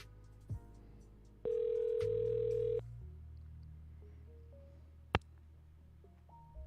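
A telephone tone sounds while a call is dialed: one loud, steady electronic beep lasting over a second, then a lower hum, a faint blip and a sharp click, heard close with no talking.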